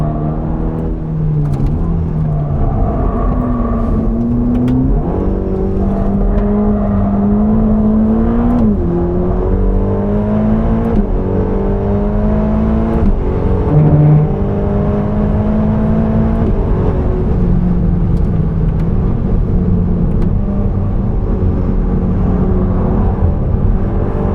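A Ferrari Roma engine drones steadily from inside the cabin on the Nürburgring, with speaker noise present, its pitch rising and shifting through gears with a continuous loud hum and no talking.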